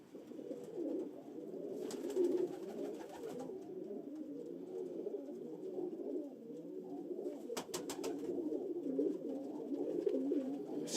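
Pigeons coo softly and steadily in an enclosed loft, several hen birds overlapping in low, throaty murmurs with a few brief rustles.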